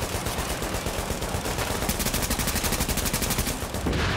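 Rapid continuous gunfire from hip firing in The Division video game, a loud dense burst of automatic shots lasting the whole moment with no talk.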